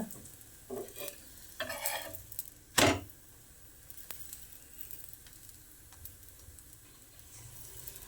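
Kadlebele holige, a chana dal stuffed flatbread, cooking on a pan while its edges are pressed down. A soft, quiet sizzle runs under a few scraping and pressing sounds, with one sharper scrape standing out.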